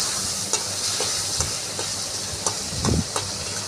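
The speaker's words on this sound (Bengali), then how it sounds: "চিংড়ি মাছটা ভেজে নিচ্ছি।" Prawns frying in a pan for prawn pulao make a continuous close sizzle, with occasional scraping knocks of stirring scattered through it and no voices.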